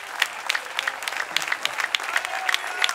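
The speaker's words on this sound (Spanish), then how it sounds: "Esas palmas son para el Señor" A church congregation claps in praise during a sermon, a dense burst of close, lively applause from many hands that continues steadily throughout.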